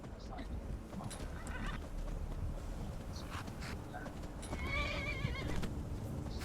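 A horse in the video game Skyrim gives a few neighs and whinnies over soft clip-clopping hooves, moderately close, with a faint windy outdoor ambience underneath.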